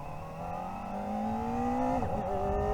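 A Kawasaki Ninja ZX-4RR, a small-displacement four-cylinder sport bike with a quick shifter, accelerates under throttle: a steady climbing engine whine rises in pitch, briefly dips at a gear change, then keeps pulling, loud and close without speech.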